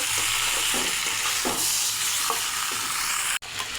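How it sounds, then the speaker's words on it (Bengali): Chicken pieces are stirred through ground spice masala in a hot pan for a village-style curry, giving a loud, continuous sizzle with rhythmic scraping strokes, then a sudden cutoff near the end. "ভালো করে মশলার সঙ্গে মাংস মিশিয়ে নেব।"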